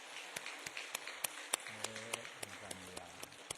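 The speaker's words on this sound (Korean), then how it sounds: "격려 박수 한번 더 하겠습니다." A church congregation gives a round of encouraging applause, scattered claps building into fuller clapping, moderately distant in a large hall.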